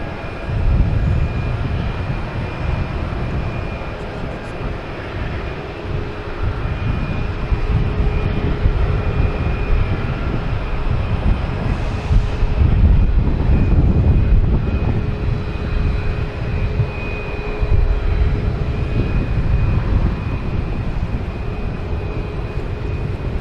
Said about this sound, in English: we should have JetBlue heading to Charleston in A220